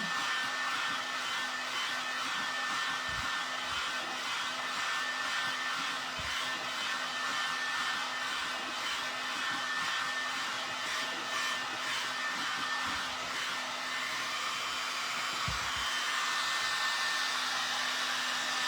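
A dryer blows steadily to dry a recycled furniture piece, a loud continuous whooshing drone with a constant tone that runs unbroken, with only a few faint knocks underneath.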